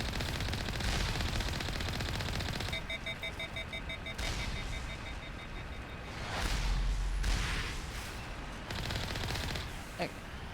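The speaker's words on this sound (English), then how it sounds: "That was a gun, right?" Video game gunfire crackles in rapid bursts and fusillades, mixed with whooshes and other game effects, loud and close throughout.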